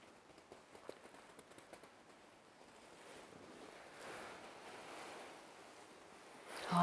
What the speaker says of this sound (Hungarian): Hallgasd a tenger marajlását.